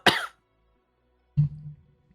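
A person suffering an allergy attack gives a sharp, brief cough. After a pause there is a low, rumbling clearing of the throat, both sounds close and set against silence.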